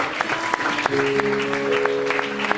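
A church seminar audience claps steadily after a scripture reading, a moderate round of applause with some sharper individual claps and a faint sustained tone beneath.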